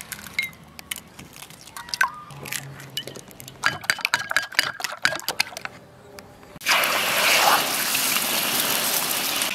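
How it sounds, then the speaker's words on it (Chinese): Eggs for a bitter-greens dumpling filling are stir-fried in a pan: first sharp sputtering crackles and spatula clicks, then a sudden loud, steady hiss of frying that carries to the end. "再炒几个鸡蛋。"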